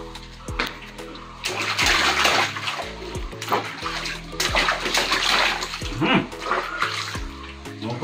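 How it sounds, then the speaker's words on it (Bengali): Water splashing and pouring while a small child is bathed and shampooed, loud and close in busy bursts, with people talking throughout and a steady hum beneath. "তো আজকে ওর চুলে শ্যাম্পু করা হচ্ছে, তাকে কি সুন্দর স্নান করে দিচ্ছে"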